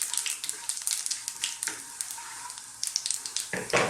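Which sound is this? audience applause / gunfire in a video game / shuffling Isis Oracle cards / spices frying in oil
spices frying in oil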